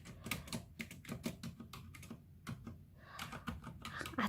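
Keys pressed on a very quiet mechanical keyboard up close, a run of muted clacks with brief pauses and a few louder presses near the end, no talking over them.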